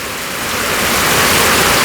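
Heavy morning rain pours steadily as a loud, dense, unbroken hiss that swells slightly over the short span, with no voices.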